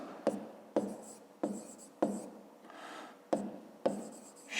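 A pen or pencil writing by hand on paper while working a fifth-grade maths exercise, in repeated short scratchy strokes with brief pauses between them, close and fairly quiet.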